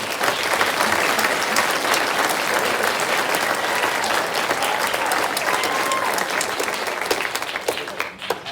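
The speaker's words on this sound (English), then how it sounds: "I'm going to give them a round of applause" A graduation ceremony crowd gives the Class of 2024 loud, dense applause that holds steady for several seconds before starting to fade at the end.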